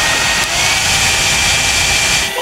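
A lighter flame turned up to full power gives a loud, steady, broadband roar that holds constant throughout and stands alone, with no voices.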